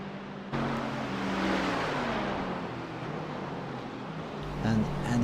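Ferrari GT3 race car in a racing video game at Belle Isle, engine roaring close and loud as it sweeps past, pitch sliding through shifts before fading, with commentary nearby.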